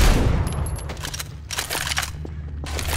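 Gunfire in Left 4 Dead 2 comes as a loud burst of shots, then two more clusters of rapid cracks, with a low rumble underneath throughout.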